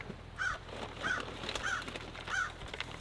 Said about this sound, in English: Oh, look who's back The crows.